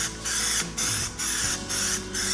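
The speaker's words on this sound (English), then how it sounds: "we're gonna be throwing down Plasti-Dip glossifier on top, and I've got it attached to my 3M trigger" A Plasti-Dip glossifier aerosol can fitted with a 3M trigger sprays while a wheel is being coated, giving five short, sharp hissing bursts in quick, even succession with brief gaps between.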